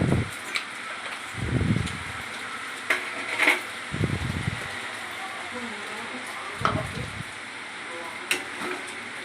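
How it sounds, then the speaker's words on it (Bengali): Ground roasted panch phoron and mustard spice mix being stirred into dry mango pickle in a pan, with soft repeated scraping strokes and occasional light clinks over a quiet background. "দিয়ে নাড়াচাড়া করে নিলাম মশলাটা সব আমের সঙ্গে মিশিয়ে নিলাম"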